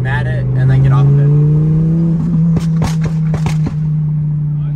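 A Ford F450 dually truck builds to full throttle, its engine droning loud and rising in pitch, then easing off with a few sharp clicks and thumps near the end.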